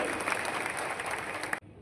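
An audience at a political gathering in Indapur claps steadily in a dense, sustained burst of applause, which cuts off abruptly near the end.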